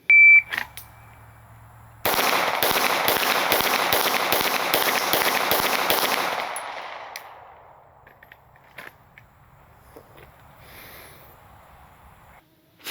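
A pistol fires a rapid string of about ten shots at a 4x6 target box during a speed drill. The shots form a loud, dense burst of cracks followed by fading echo and then quiet.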